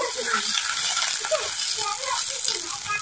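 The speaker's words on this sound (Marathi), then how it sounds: "तेलामध्ये पाणी टाकले" Water hits hot tempering oil for dhokla, giving a steady, close hiss and crackle with faint stirring rattles, while a voice talks quietly underneath.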